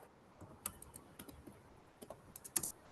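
Light, sparse keystrokes clatter on a computer keyboard nearby, a few quick irregular clicks with pauses and one louder tap near the end, with no voices.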